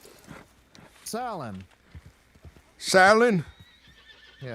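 Horse in a ranch roleplay game giving two loud, close whinnies a couple of seconds apart, with faint hoof clip-clops and bits of spoken talk in the gaps.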